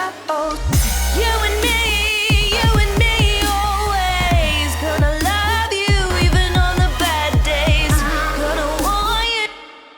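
A future bass track with chords and melody built from synth sounds made in Vital, layered over punchy drums and vocal-like lead lines, plays loud and continuous, then cuts off at the very end.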